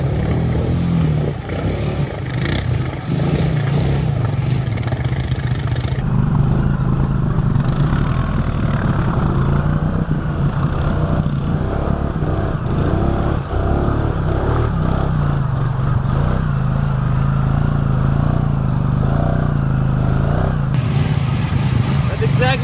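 A rebuilt Honda Rubicon 500 ATV engine drones steadily throughout a long ride, its hum continuous and fairly loud while someone talks over it.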